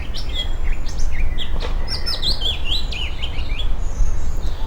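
Robin and other garden birds singing in a quiet churchyard, a run of thin, high trilling phrases and chirps over soft background hiss, fairly close, with no talking.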